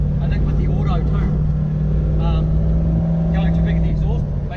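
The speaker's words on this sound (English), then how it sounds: "going too big in the exhaust makes them really drony." Steady low exhaust drone from a supercharged 1UZ-FE V8 Toyota 4Runner with an automatic gearbox and a big exhaust, droning continuously while driving as people talk over it inside the cabin.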